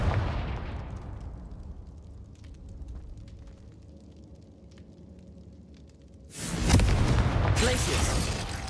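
Confringo explosive spell cast in Hogwarts Legacy, a sudden loud blast that bursts in after a quieter stretch of low rumbling and scattered game sounds, sustaining a bright crackling roar near the end.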